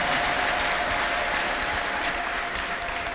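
A church congregation claps loudly for the Lord during a service. The dense, sustained applause fills the whole moment with a crowd murmur faintly beneath.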